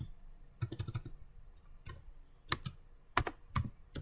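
Keystrokes on a computer keyboard as a command-line command is entered, crisp close clicks in short irregular bursts with pauses between, without any talking.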